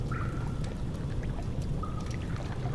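Sewer water flows and pours in a cistern in Amnesia: The Dark Descent, a steady rushing wash with faint drips and tones, no voices.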